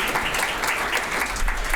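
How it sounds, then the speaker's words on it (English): An awards ceremony audience claps steadily and warmly, a dense wash of applause filling the short stretch without pause. "Give yourselves a big round of applause."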